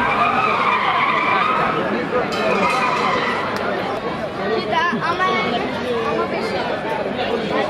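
A race car fitted with a 245-horsepower Type R engine skids loudly at a motor show, with a long tire squeal sweeping through the whole run and crowd chatter underneath.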